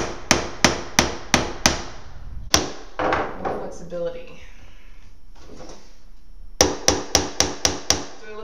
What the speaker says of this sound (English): That is a crazy small hammer.